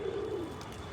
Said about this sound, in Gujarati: જો કબૂતર ખાય છે અત્યારે દાળિયા ખાઈને